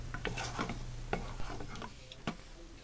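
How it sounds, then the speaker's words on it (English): A spoon stirs Italian seasoning into a sauce in a pot, giving a few quiet, close scrapes and taps over a soft, low simmer. "Now you just stir that in and let it come to a simmer."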